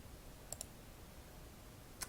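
A computer mouse clicks three times in a quiet room: two quick, faint, sharp clicks close together, then a single click near the end.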